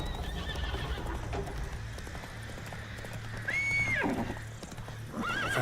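Roach, the horse in Witcher III: Blood and Wine, gallops with rapid hoofbeats close by, then lets out loud whinnies near the end, with no voices over it.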